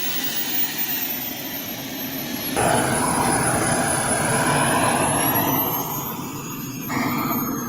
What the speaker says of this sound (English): F-16. We'll watch him take off, man.